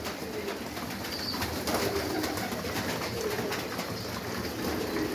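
Pigeons coo softly and continuously in a pigeon loft over a steady background hiss, with faint rustling and movement as barley is fed, no talking.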